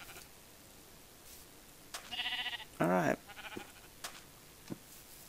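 Short bleating of sheep in the block-built video game Minecraft, a couple of wavering calls around the middle of the clip, fairly close, with a brief spoken word from a player nearby.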